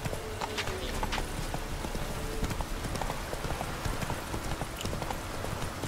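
Roach the horse galloping in The Witcher 3, with quick, rhythmic hoofbeats clopping close and steady through the whole clip and no one speaking.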